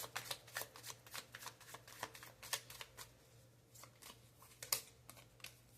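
Tarot cards are shuffled and laid down in a quiet room, with a rapid run of crisp riffling snaps followed by sparser card flicks and taps, close and clear, with no talk.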